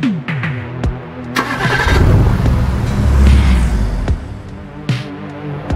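Car engine starting and revving in the video game AI The Somnium Files, a loud mid-pitched motor surging and accelerating with sharp clicks and bumps throughout, no talk.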